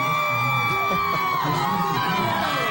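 A dense crowd cheering and whooping in New Orleans streets after a Super Bowl win: continuous close-up roar with shouts and some talk mixed in.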